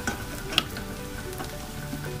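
Onions, garlic and tomatoes sizzle steadily in a pan, a soft continuous frying hiss with one sharp pop, close and fairly quiet, without talk.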